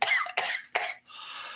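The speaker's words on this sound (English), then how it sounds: "My cough is sus" Three short, raspy coughs in quick succession, close and fairly loud, followed by a soft breathy exhale.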